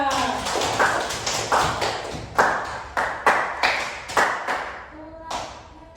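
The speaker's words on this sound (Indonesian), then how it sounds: "Tepuk tangan semuanya." A classroom of fourth-grade pupils clapping their hands together in a steady rhythm of sharp, evenly spaced claps that rise and fall across the whole stretch, close and fairly loud.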